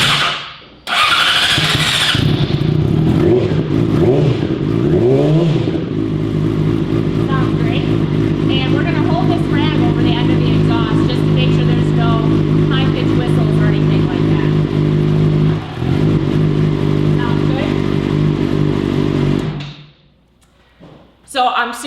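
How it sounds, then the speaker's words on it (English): A Yamaha R6 sport motorcycle with a full M4 aftermarket exhaust starts with a thump and settles into a loud, deep idle from the throaty exhaust, close by, then cuts off near the end. "I think the exhaust sounds great."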